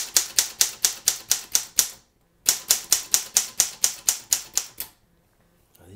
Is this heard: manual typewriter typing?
yes